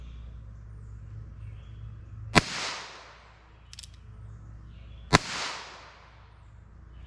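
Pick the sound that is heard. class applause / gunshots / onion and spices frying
gunshots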